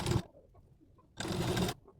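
A sewing machine stitches blouse fabric in two short, close bursts of rapid mechanical chatter separated by about a second of quiet.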